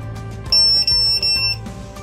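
A buzzer on a quadcopter flight controller beeps in short, high, piercing tones, close and loud, over a low hum.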